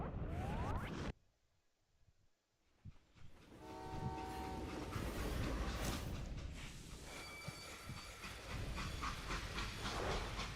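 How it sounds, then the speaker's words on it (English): A freight train in the video game Call of Juarez Gunslinger rumbles loudly and hisses steam, a horn-like tonal blast rising in the middle, with metallic clanks over a continuous roar. "how'd they stop this train in the first place?"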